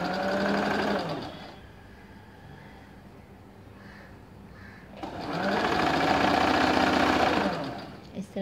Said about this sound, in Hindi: सो अब हम नीचे की ओर से आएंगे सिलाई करते हुए।